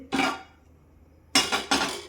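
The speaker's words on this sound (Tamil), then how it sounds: "ஒரு பேன் ஒன்று வச்சுக்கலாம்" Two quick metallic clanks of a pan being placed on the stove a moment apart after an earlier clatter, close and fairly loud, with no talking.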